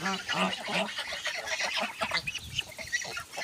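A flock of domestic geese feeding, giving loud, overlapping honks and cackles that continue without a break, close by and busy.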